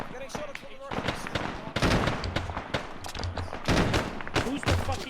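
Dense gunfire with incoming shots, a .50 cal machine gun among them, in a battlefield skirmish. Rapid overlapping bursts and cracks run throughout, with heavier thumps mixed in, while voices talk over the shooting.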